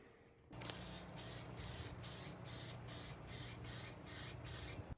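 An aerosol can sprays paint onto a rusty Toyota MR2 brake caliper in a series of loud, close hissing bursts, about ten short sprays in quick, even rhythm with brief gaps between.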